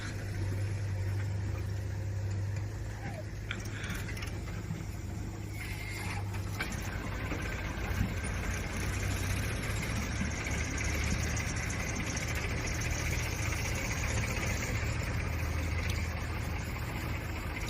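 A new tractor engine idles steadily up close, a constant low rumble with mechanical rattle that holds without pause throughout.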